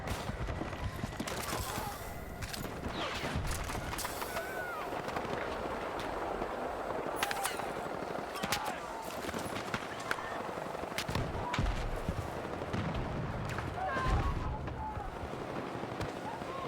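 Rapid gunfire from an MG77 machine gun in a first-person shooter game, bursts of shots running throughout amid busy game noise and scattered impacts.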